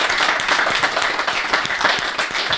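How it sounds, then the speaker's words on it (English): A live podcast audience claps for a guest in steady, moderately loud applause that carries on without a break. "could we give a big round of applause to our"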